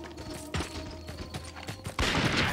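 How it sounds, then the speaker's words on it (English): Gunfire in the Western video game Red Dead Revolver: several sharp shots ring out over game ambience with hoofbeat-like clopping, ending in a loud burst near the close. "That was a gunshot."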